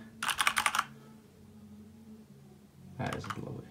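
Two bursts of fast typing on a Corsair K70 LUX RGB mechanical keyboard, close and crisp, separated by a quieter gap with low background hum.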